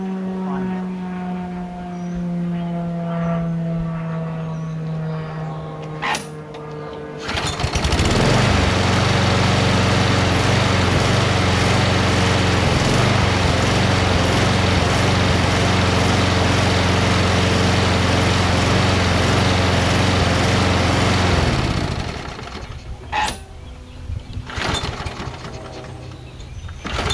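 A Craftsman self-propelled 22-inch lawn mower with a Briggs Quantum engine, primed before starting, catches after a few quiet seconds. It runs loud and steady for about fourteen seconds, then cuts out, leaving quieter handling noises.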